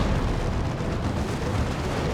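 Rocket run strikes in the Dawn of War 2 strategy game, a dense continuous rumble of overlapping explosions and booms at steady loudness for about two seconds, with no voices.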